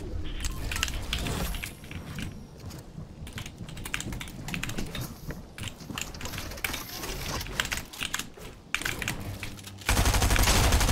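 Submachine gun fire in the Fortnite video game, dense rapid bursts that run almost the whole time, mixed with clattering keyboard clicks and a louder burst near the end.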